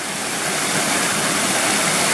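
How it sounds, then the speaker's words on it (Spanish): Clear mountain stream of running water in the Sierra de los Comechingones, San Luis, Argentina, a close, steady broadband rush and gurgle with no pauses and no voices. "paramos para sacar unas fotos en este lugar donde corre agua cristalina"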